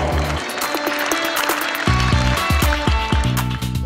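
Student teams at the Kama Challenge 2014 school sports event clapping for themselves, a dense roll of applause that swells in the second half, with some talk over it.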